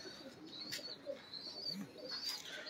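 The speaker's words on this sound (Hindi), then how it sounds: "ये दोस्तों शर्मीले कबूतर मानी भाई के," Soft cooing from a shy (sharmila) pigeon, low repeated murmurs with faint chirps over a steady hum of background noise, moderately distant and quiet.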